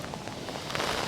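Hail begins falling outdoors on a stormy day on Madeira. Dense pattering and crackling taps come from all around, steady and fairly loud, with a little wind and no talking.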